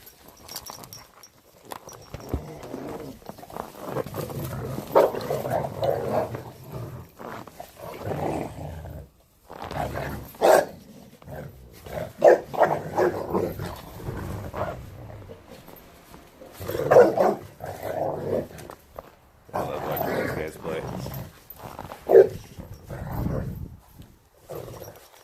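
A pack of dogs at a group feeding, with rough barking and low growling in bursts over about 25 seconds, loud and close, some sharp peaks between quieter stretches.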